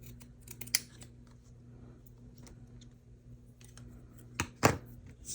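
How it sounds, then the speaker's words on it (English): Scissors snip lace in a few sharp, close cuts, two brief clusters with quiet handling sounds in between against a low background hum. "Let me grab some scissors."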